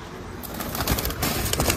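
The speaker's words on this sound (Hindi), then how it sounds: "देखो रुक रहे नहीं है कबूतर" A pair of highflyer pigeons is released in Bhiwandi, with brief bursts of wing flapping and soft coos close by. A low background hum runs through the short moment.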